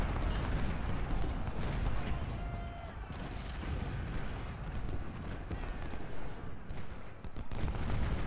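Cannon and rifle fire rumbling across a Civil War battlefield in a strategy game, a continuous dense roar of distant booms and crackling shots with someone talking over it.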